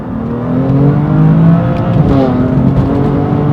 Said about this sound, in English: Acceleration on this car is savage.